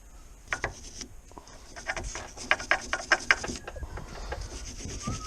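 Wire brush scrubbing a rusty car suspension part during a repair, heard as a close run of dry, rasping strokes with a few sharper scrapes in the middle, alone without speech.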